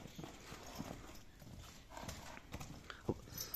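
Hooves of a large ten-to-eleven-year-old horse clip-clop at a steady walking pace, moderately close, with a few scattered brighter knocks over quiet outdoor background.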